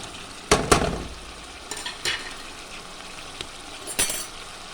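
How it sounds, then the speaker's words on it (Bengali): Fried potatoes going into spice paste cooked down in oil with turmeric, giving a few sharp sizzling bursts and clinks of a utensil against the pan between quieter stretches of low frying hiss. "মশলাটা ভালো করে কষিয়ে নেবো আমি এবারে মশলা থেকে কিন্তু আমার তেল ছেড়ে দিয়েছে এবার দিয়ে দিচ্ছি ভেজে রাখা আলুটা"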